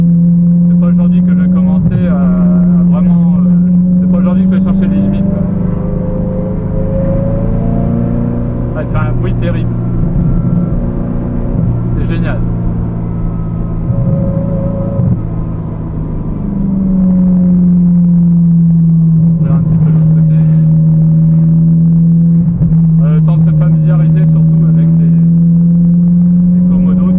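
A Ferrari 348 being driven gently, its engine holding a steady, loud drone with slight rises in pitch, heard from inside the car beneath someone talking almost continuously.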